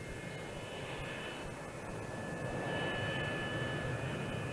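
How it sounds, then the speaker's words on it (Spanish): A Northrop YB-49 eight-engine flying wing jet aircraft in flight, its engines a steady, loud roar with a whining tone, continuous throughout with no talking. "Este es el YB-49 de 8 motores en bloque."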